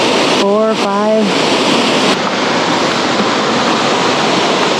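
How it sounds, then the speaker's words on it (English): Small waterfalls along the Tuolumne River in a narrowing glacial valley, a steady broad rush of falling water that stays constant throughout, with a short burst of voice early on over the roar. "There's like 3 little waterfalls to the right"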